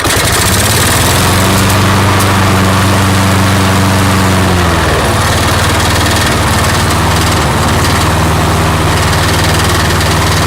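A rebuilt lawn mower engine idles loud and close with a steady droning hum, its pitch dipping briefly midway before settling back to an even run, no voices.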